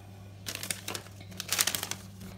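A thin plastic produce bag holding two red bell peppers crinkles in close, quiet bursts of rustling as it is handled, with a low steady hum underneath.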